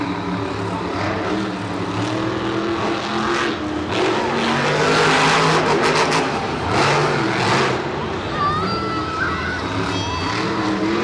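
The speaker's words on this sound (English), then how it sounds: "And it's going to be Lindsey Wink and the Lucas Oil Crusader pulling away with the win." Monster trucks racing at Monster Jam in MetLife Stadium, engines roaring loud and continuous with revving surges across the whole stretch, crowd noise blended in.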